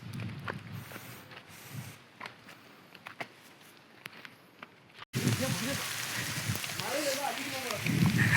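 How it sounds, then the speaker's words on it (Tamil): Rain starting to fall at Gingee Fort amid rocky ground: a faint, sparse stretch with scattered footstep-like taps gives way to a steady, louder hiss of rainfall in the second half. "ஐயோ மழை வந்துருச்சு"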